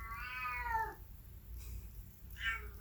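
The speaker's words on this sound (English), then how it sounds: "I hear her meowing in the bedroom." A cat meows from the bedroom: a long, drawn-out meow followed by a shorter one after a pause, both faint and slightly distant, with no voices over them.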